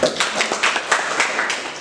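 Group applause in a classroom or training session, a short burst of many hands clapping together with uneven sharp slaps, fairly close and steady.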